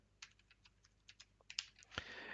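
Quiet computer keyboard typing a Wi-Fi passphrase: a quick irregular run of light key clicks, close and fairly soft, ending in a heavier keystroke like the enter key, with no talking.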